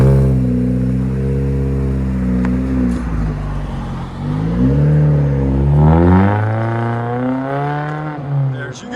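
A 2012 Chevy Sonic with a manual gearbox, its muffler deleted and a short Vibrant resonator fitted, drones and revs close by with a deep, steady exhaust tone that rises and falls through the clip, with no talking.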